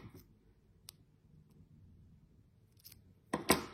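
A thumbnail clipped off with a few sharp snips near the end, loud and close, after faint isolated clicks over quiet room hum, no talking.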